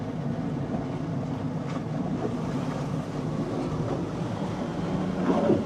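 A Sea Reacher Model Z shark-shaped boat runs on open water, giving a continuous, even rumble of engine and rushing water with no voices.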